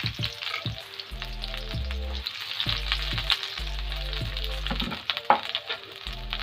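Onion fries in hot oil in a kadai with a continuous crackling sizzle, while a steady low tonal hum runs underneath, close and moderately loud.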